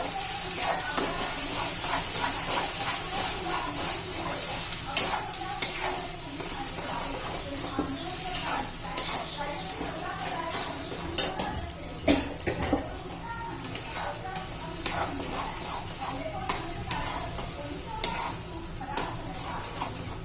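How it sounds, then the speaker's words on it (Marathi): Spice paste with cumin, cinnamon and roasted masala frying in oil for chana masala, a soft continuous sizzle and hiss with occasional clinks of a spoon against the pan, under someone speaking. "जर आपण तेल सुटेपर्यंत परतून घेऊया"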